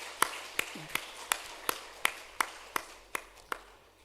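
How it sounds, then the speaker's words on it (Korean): Slow, evenly spaced single claps ring out in a church sanctuary after a thank-you to a short-term mission team. There are about ten sharp, moderately faint strikes with no talk over them. "우리 하나님 앞에 영광의 박수 돌려드리겠습니다."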